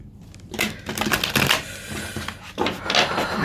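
Large tarot cards being shuffled by hand, giving dry papery riffling and clattering bursts in several uneven runs. The sound is close and moderately loud, with no voice heard.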